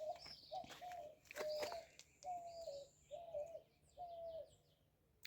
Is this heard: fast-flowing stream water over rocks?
no